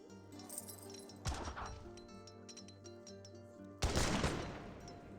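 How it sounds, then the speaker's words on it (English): Two sharp bursts of Age of Empires 3 gunfire cut through a steady musical background, the second louder with a lingering ring. "Heard a bit of gunfire."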